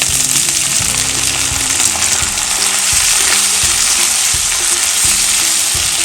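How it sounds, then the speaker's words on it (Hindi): Chopped tomatoes fry in a pan on low heat while making methi malai matar, giving a loud, steady sizzle with a stirring scrape now and then. "अब हम 2 टमाटो जो हमने काट के रखा था वो भी इसी"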